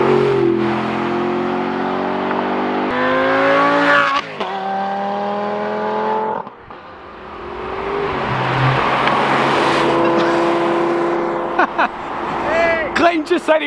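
A loud, straight-piped Porsche flat-six engine revs up and down in repeated bursts, snarling and crackling, with short drops between pulls and a brief tire squeal.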